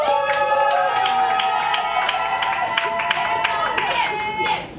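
Guests at a royal wedding ceremony applauding, steady dense clapping from a crowd heard throughout, with voices and an amplified speaker over it.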